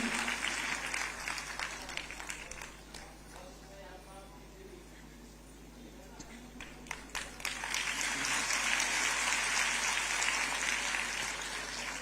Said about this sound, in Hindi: आपकी तालियां संगीत का काम करती हैं।